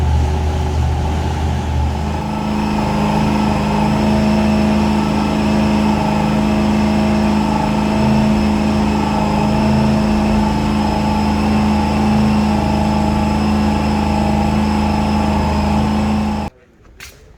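A supercharged Holden HQ one-tonner engine runs steadily at 1800 RPM to bed in the rings, loud and close, droning without change until it cuts off abruptly near the end.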